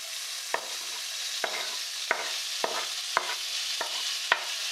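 Onion going into a hot pan for Pakistani-style chicken karahi: a steady, close sizzle of frying runs throughout, punctuated by about seven sharp scrape-clicks of a utensil stirring at a regular pace.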